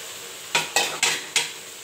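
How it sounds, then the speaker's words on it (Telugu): Sugar syrup going into roasted wheat flour for halva sizzles and hisses in four quick bursts. Each burst rises sharply and then fades, heard close and with no talking. "ఈ సిరప్ని దీంట్లో పోసేసుకుందాం."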